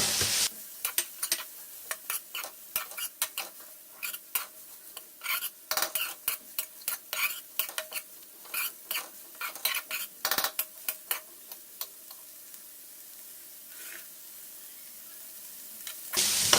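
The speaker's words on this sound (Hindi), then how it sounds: "ज़्यादा से ज़्यादा हम इसे 3 मिनट फ्राई करेंगे। बंद गोभी और गाजर हमारी फ्राई हो चुकी हैं।" Cabbage and carrots stir-fry in a pan, with a utensil scraping and clinking against the metal in a steady run of strokes over a soft, continuous sizzle.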